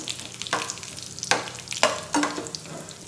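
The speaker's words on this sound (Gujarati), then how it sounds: "ઘી ગરમ થાય એટલે આપણે તેની અંદર કાજુ બદામના ટુકડા તળીશું" Cashew and almond pieces fry in hot ghee for laddoos, giving a soft, continuous sizzle broken by several sharp scraping clatters as a spoon stirs the pan.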